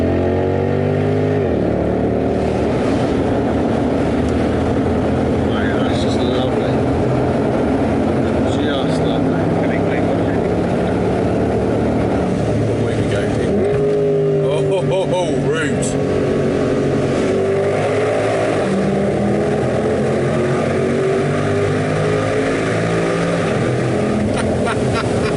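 Mercedes SL63 AMG V8 with the roof down roars through a tunnel, loud and close, revving up and down in repeated surges with crackles as it accelerates, while people talk and laugh over the engine.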